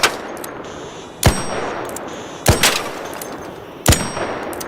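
Four sharp, loud single gunshots ring out in ARC Raiders, evenly spaced roughly a second apart. Each has a bright metallic crack and a short ringing tail, with no talk over them.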